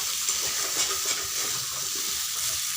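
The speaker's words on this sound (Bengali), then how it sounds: "এরপর এঁচড়গুলোকেও দিয়ে দিচ্ছি, দিয়ে ভালো করে মিশিয়ে নিতে হবে।" Young jackfruit is stirred into a hot frying pan, giving a soft, steady sizzle with faint scraping as it mixes, fairly quiet and with no talk.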